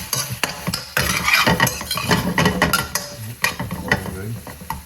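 Onions and garlic frying in a pan for chicken adobo, a close, loud sizzle with lively crackles and spatter plus clinks of a utensil stirring against the pan.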